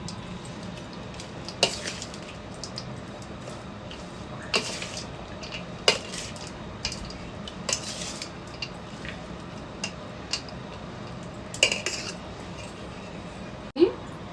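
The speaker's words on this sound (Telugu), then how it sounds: "రైస్లో వేసేసుకొని బాగా కలుపుకోవాలి" Cooked rice is stirred with salt and mango paste for mango pulihora; a spoon clinks and scrapes against the vessel in intermittent, fairly soft taps over a low background.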